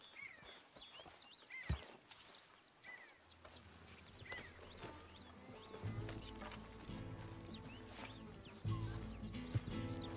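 Rhythmic horse hoof clip-clops patter along at a walking pace in the video game Red Dead Redemption 2, joined by a low droning background score and scattered bird chirps, with no talking.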